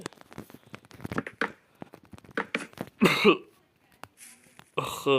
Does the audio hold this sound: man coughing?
yes